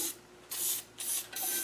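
Rust-proofing spray is hissing onto the pivots and inside of a Land Rover 109 clutch and brake tower during a refurbishment, in three short close bursts with brief pauses between them.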